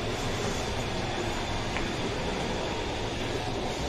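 Interior of a moving, nearly empty passenger train on the way to Ooty, India: a loud, continuous rumble of wheels and carriage noise, steady throughout with no talk.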